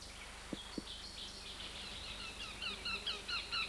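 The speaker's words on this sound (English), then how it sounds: "the elusive bay-breasted warbler may be seen, along with the common yellow-rumped warbler and the dark-eyed junco" Several small songbirds, a bay-breasted warbler, a yellow-rumped warbler and a dark-eyed junco, give thin high chirps and short trilled phrases in a woodland. The calls grow busier toward the end, and two soft knocks come early.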